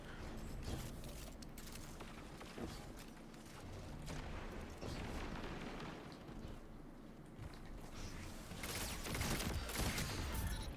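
Hand cannon gunfire during a Destiny multiplayer match, with bursts of overlapping shots and impacts from several players, loud and continuous over the whole stretch and heaviest near the end, with no talk.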